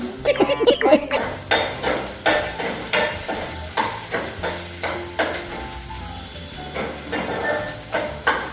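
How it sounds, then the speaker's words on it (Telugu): Masala for egg curry fries in a pan while a spoon stirs it, a steady sizzle under repeated scraping and clinking strokes of metal against the pan, close and fairly loud, with a denser burst of clatter at the start. "లైట్గా జస్ట్ పచ్చివాసన పోయిన వరకు ఫ్రై చేసుకోవాలి"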